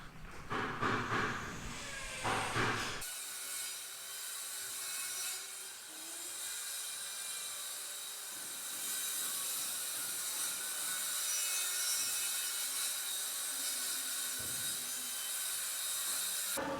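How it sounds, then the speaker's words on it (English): Workers put in large aluminum windows on a new house build, with steady loud grinding and drilling noise running almost the whole time after a brief opening burst, harsh and continuous close by, with no talking. "It's going to get noisy, but the big window guys are installing the big windows now."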